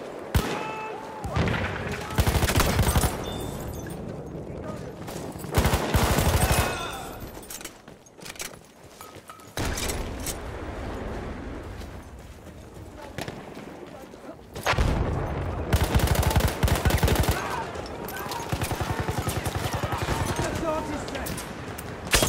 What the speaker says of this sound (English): Machine gun, look nice!